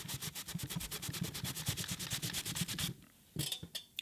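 Wet towel rubbed quickly back and forth over pressure-treated deck wood to wipe off marker lines, a close run of rapid even scrubbing strokes that stops briefly, then gives a few final swipes.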